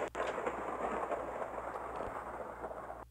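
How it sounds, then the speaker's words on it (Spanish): A low, sustained rumble of thunder with steady rain hiss in Minecraft, continuous and fairly loud, with a sharp crack near the start. "espero que se acaben los truenos porque está lloviendo demasiado"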